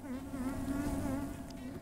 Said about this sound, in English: Worker bees are busy making honey.